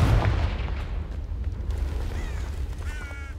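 A Confringo spell explosion in a Harry Potter video game hits as a loud, close blast, then settles into a steady low rumble. Short chirping tones rise near the end, and no one speaks.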